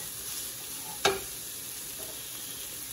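Chili powder, turmeric and salt fry in a pan with a soft, steady sizzle, broken by one sharp clink of a spoon as the spices are stirred.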